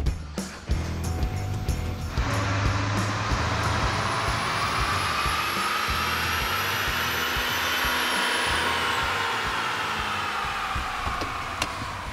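A Duramax diesel GMC Denali pickup runs a pull on a dynamometer, a loud sustained roar that builds steadily with a rising whine across the run, then holds near full volume until the end, with no voices.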